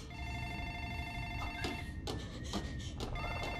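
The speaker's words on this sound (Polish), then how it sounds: "No patrzcie, telefon dzwoni." Telephone ringing in the LEGO Jurassic World video game, heard as steady electronic ringing tones layered over a continuous game soundscape, with brief bursts of other game effects.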